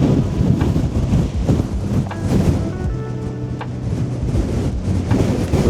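Strong wind buffets the microphone outdoors in Manchester, a continuous loud low rumble with gusty swells throughout, no talking.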